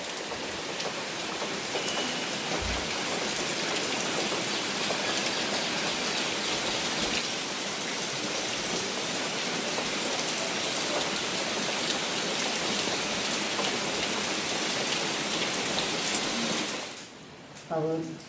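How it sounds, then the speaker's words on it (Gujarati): Heavy monsoon rain pours steadily on a farm, a dense, even hiss of drops drumming on surfaces that holds for most of the stretch before dropping away abruptly near the end. "આખું ચોમાસું બેઠું ને તાણે પહેલી વાર આટલો વરસાદ આવે છે."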